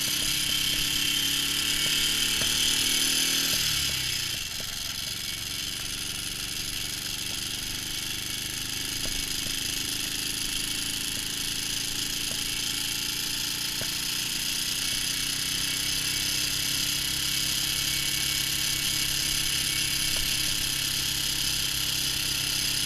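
A restored 1965 Honda CB77 Super Hawk motorcycle being ridden on a gravel road, its engine droning steadily and loud throughout, with a brief shift in pitch early on as the rider changes speed.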